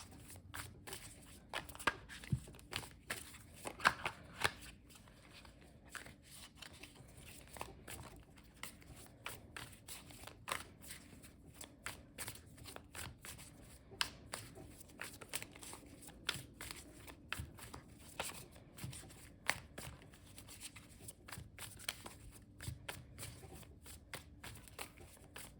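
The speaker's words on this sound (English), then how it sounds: "We're just getting these good and shuffled, of course." Tarot cards being shuffled by hand, close and quiet, with repeated crisp riffling snaps and soft slides in an irregular rhythm over a low room hush, no talking.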